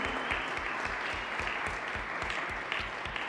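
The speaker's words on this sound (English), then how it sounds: "How about another round of applause for our School 22 Jazz Band?" An audience at a board of education meeting applauds the School 22 Jazz Band, a dense, even round of many hands clapping heard from a distance at a soft level.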